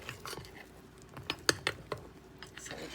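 Batter is stirred in a bowl for waffles, with light irregular clinks and taps of a utensil against the bowl, fairly quiet and close.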